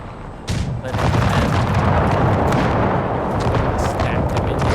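Musket volleys crackle in an Empire Total War mod battle, a dense, continuous barrage of overlapping gunfire and booms that surges after a brief quieter start and stays loud.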